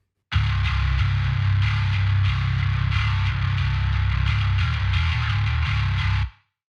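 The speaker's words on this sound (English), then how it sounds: "we are using Neural DSP Parallax, which is fantastic. It is my favorite bass plugin" Bass guitar played through the Neural DSP Parallax distortion plugin, a loud gritty sustained tone with a heavy low end and buzzing upper distortion, ringing for about six seconds before cutting off cleanly.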